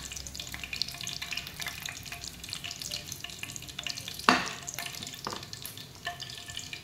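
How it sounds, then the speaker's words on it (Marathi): Fenugreek seeds frying in oil in a pan, a steady soft sizzle with brief stirring scrapes and one sharp clatter partway through, close and alone with no voices. "मेथीचे दाणे तळायला जास्त वेळ लागत नाही, मोहरीसारखे ते लवकर होतात"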